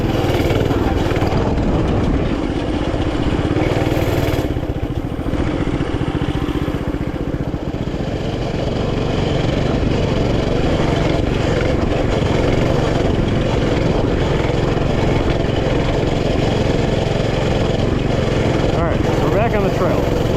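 A Coleman CT200U mini bike engine runs steadily while riding on a trail, a loud continuous buzzing drone with rattling clatter that barely changes in level over about twenty seconds.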